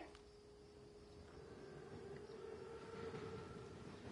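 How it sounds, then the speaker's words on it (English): In the video game Call of Duty, an armored train arrives with a steady low rumble that gradually swells louder over a few seconds, with a faint sustained tonal whine riding above it and no voices. "Train's right on time. Biggest train I've ever seen."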